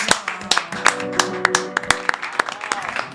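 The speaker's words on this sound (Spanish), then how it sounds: "Con un fuerte aplauso recibimos en este estudio a Martín Rodríguez" Studio audience applause greeting a guest on an Argentine talk show, heard as scattered, fairly close claps with sharp individual hits over a background of low sustained tones, with voices present.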